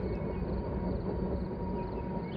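A train passes close by after building up speed from a siding, a steady loud rumble of wheels and cars rolling past with no break.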